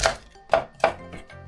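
A kitchen knife chops food on a cutting board while shrimp is being prepared for dinner at home. There are three sharp, close knocks at uneven intervals, followed by a softer fourth.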